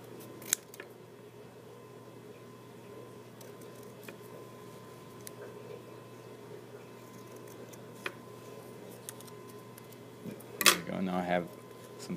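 Paper being cut with scissors to shape puff rocket fins, quiet snips and faint rustles spread across a near-silent stretch, ending in a louder burst of paper handling and crinkling.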